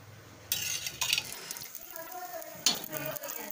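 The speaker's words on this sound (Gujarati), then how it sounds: "હવે આપણે દાબેલી શેકી લઈશું આવી રીતે" Kutchi dabeli buns roasting in oil on a hot iron griddle, with soft sizzling under scraping and stirring, a few clinks of a utensil against the pan, and short bursts of louder frying midway and near the end.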